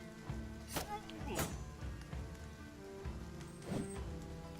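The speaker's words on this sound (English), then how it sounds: "It's raining in-game" Steady rain from the video game Battle Brothers patters softly and evenly throughout, with a few sharper clicks and tones rising over the wash of drops.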